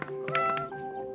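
A kitten at an animal shelter gives a short, faint meow against a quiet indoor room tone.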